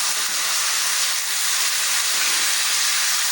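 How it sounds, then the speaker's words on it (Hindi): Mutton tipped into a pan of onions already frying to a golden brown gives a steady, loud, close sizzle that hisses evenly for the whole stretch with no voices. "तो इस टाइम पर हम इसमें शामिल करेंगे मटन"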